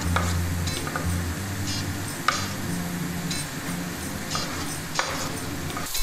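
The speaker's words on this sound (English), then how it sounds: "let the mushrooms cook for 10 minutes on medium-high heat without putting the lid on the pan" Sliced mushrooms sizzle in a pan over medium-high heat with parsley and chili pepper, a steady close frying hiss under low hum, broken by scraping stirs and a couple of sharp utensil clicks.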